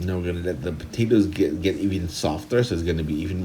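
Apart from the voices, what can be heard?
No everyday noises stand out.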